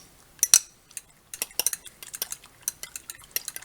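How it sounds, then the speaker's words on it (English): Quiche ingredients are stirred in a bowl with a utensil, giving a quiet series of close clinks and scrapes in an irregular rhythm, with no talking. "Mix that up."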